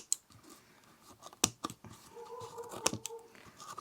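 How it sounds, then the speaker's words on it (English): Scissors snip at the paper spine of a junk journal book block, giving a few sharp, close cuts spaced apart over quiet handling rustle. "I will try to clean up the spine a little with my scissors."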